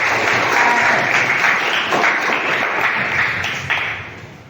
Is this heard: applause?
yes